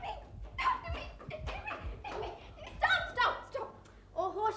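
A dog barks and whimpers in short bursts amid laughter and talk in a lively home scene from a Hindi TV comedy, the yaps close and fairly loud.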